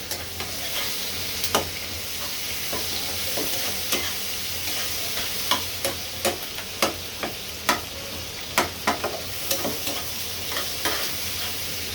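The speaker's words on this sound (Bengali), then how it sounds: "হলুদ লবণ মেখে তেলের ভিতরে এইভাবে ভেজে নিলে এই সুন্দর কালারটা আসে।" Shrimp coated in turmeric and salt fry in hot oil in a pan, giving a steady, dense sizzle with a series of sharp stirring clatters and scrapes spread through the clip.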